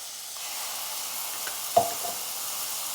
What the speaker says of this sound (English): So we're going to start frying up our channa or chickpeas now.